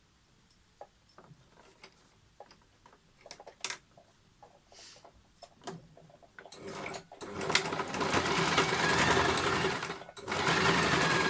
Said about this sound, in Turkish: Burayı da yine düz dikişle birleştiriyorum.